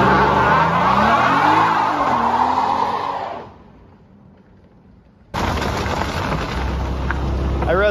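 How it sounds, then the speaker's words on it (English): A 2018 Dodge Challenger with the 3.6 engine does a burnout: loud engine roar and screeching tire spin for about three seconds, a sudden near-silent gap, then the roaring, squealing burnout resumes close by. "All right, you can have a little tire smoke for a treat."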